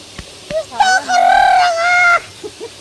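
A single rooster crow rises and holds close by, with faint clucks and a brief voice around it; it may be a person imitating the call.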